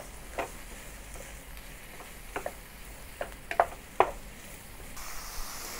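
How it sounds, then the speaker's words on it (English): Mushrooms sautéing in a pan until soft: a quiet, low sizzle under a handful of sharp spatula clicks and taps against the pan, spaced irregularly, with no speech. "continue saute the mushroom until the mushroom turns soft"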